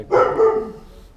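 A dog gives a single loud, close bark, one short double-pulsed woof that fades quickly, heard on its own.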